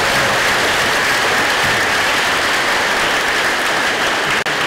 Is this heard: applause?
yes